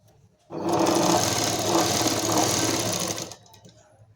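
A sewing machine stitches the collar of a kurti in one steady run of about three seconds, a close, loud, rapid mechanical chatter that starts and stops abruptly.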